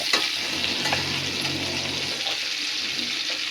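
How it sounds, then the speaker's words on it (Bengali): Onion and vegetables, with pumpkin, potato and bitter gourd, stirred and fried in a pan: a steady close sizzle with scraping stir strokes, no voices. "এবার এটাকে নাড়া দিয়ে আবার আস্তে আস্তে আমি সবজিটাকে করে নিচ্ছি।"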